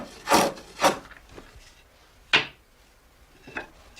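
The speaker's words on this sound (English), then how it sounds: "starts to hollow out that part of the stave which will be on the inside of the churn, and trims the edge of the stave" A cooper's hand tool scrapes and shaves a wooden churn stave, hollowing its inner face and trimming the edge in a few separate rasping strokes with quiet gaps between them.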